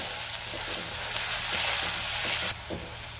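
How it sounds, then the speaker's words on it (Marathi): Whole garlic cloves sizzle and crackle in hot oil in a pan for tomato chutney, a steady close hiss with fine popping that drops a little in level near the end. "असा तेलामध्ये अख्खा लसूण घातला"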